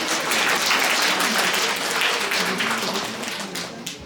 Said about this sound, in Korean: 우리 은빈 양에게 다시 한번 큰 박수